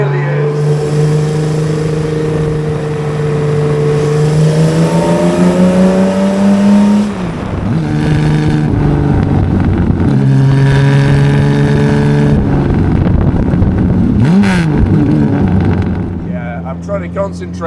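A multi-million-pound classic car engine is driven hard at full throttle, a loud close roar with rising and falling pitch through gear changes and revs, steady across the whole stretch with a brief dip in the middle.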